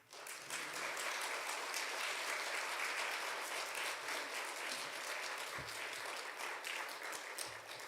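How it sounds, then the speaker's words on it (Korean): A church congregation at a New Year special Wednesday service claps steadily and loudly to welcome the pastor to the pulpit, a full, even round of applause from start to finish. "목사님 나오실 때 큰 박수로 한번 환영해 주시면 감사하겠습니다"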